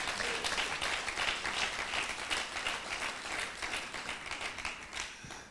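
A church congregation breaks into sustained applause, with dense clapping filling the room at an even level for several seconds before it slowly fades toward the end.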